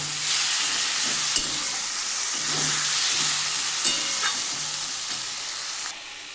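Spinach chachhori with fish head, topped with coriander leaves, sizzles steadily in a pan while being stirred, with a couple of light clinks of the utensil against the pan and a faint low hum beneath, no talk.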